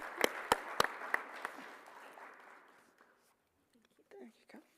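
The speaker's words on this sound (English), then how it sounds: "Give him a round of applause." Audience applause at an awards ceremony: a few sharp individual claps open a brief, fairly quiet wash of clapping that fades out within about three seconds, followed by a little talk.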